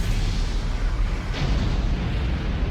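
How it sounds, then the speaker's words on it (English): A secondary explosion in the video game Xenogears, set off under a main cannon, heard as a dense, loud, continuous rumbling roar with a brief bright burst partway through. "It reacted with the main condenser right under the main cannon and induced a secondary explosion."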